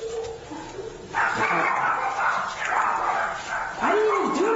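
Dogs barking and yipping close by in a home during a family dispute, in repeated bursts, with a whimpering or whining tone near the end and voices in the background.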